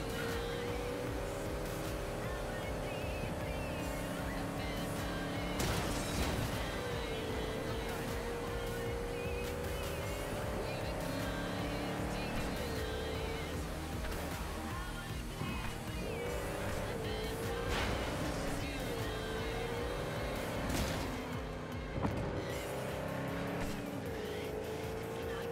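Engine of a car in Cyberpunk 2077 revving hard and climbing through many gears, pitch sweeping up and dropping at each shift, with occasional tire squeal over steady game noise.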